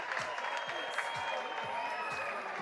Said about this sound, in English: Crowd going absolutely wild.